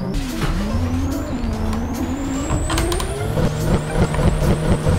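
A turbocharged drift car engine in the racing game Assetto Corsa revs, climbing and whining with rising turbo-like pitch sweeps, steady and close, with no talking over it.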